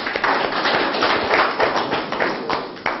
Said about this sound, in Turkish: Alkışlayın Hüseyin'i.